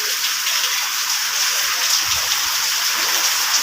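Heavy rain lashing down at night in Hyderabad during a fierce windstorm, a loud continuous broadband roar with no pauses and no voices.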